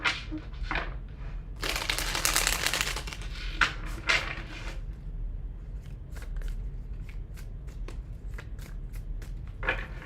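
Tarot cards are shuffled by hand in a close, crisp riffling burst, followed by scattered sharp taps and card flicks in a quiet room.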